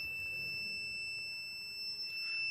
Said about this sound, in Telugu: ఆటోమేటిక్గా ఇలా అలారం అనేది వస్తుంది